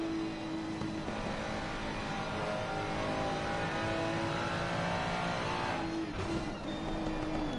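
GT3 race cars, a Mercedes and a Ferrari, racing at Bathurst in a video game: a sustained engine drone with a steady whine, fairly even in level, with a brief shift in pitch near the end as a car passes.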